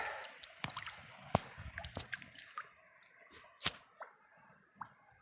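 Water splashes onto a pudding stone from a late-season river gravel bar, giving a scattering of faint, close drips and wet squishes with brief quiet gaps between them.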